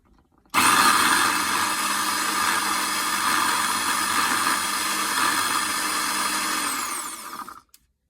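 A blender whirs loudly and steadily for several seconds, pureeing raw zucchini lasagna paste, then winds down and stops.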